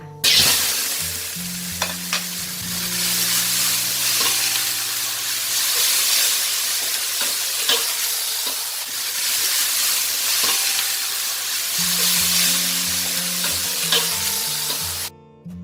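Loud, continuous sizzling and hissing of water mimosa being stir-fried over high heat in a hot iron wok, with occasional scraping clinks of a spatula against metal.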